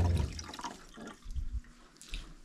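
A solar-powered water pump runs, sending water splashing and gurgling steadily throughout at moderate loudness, with no one speaking.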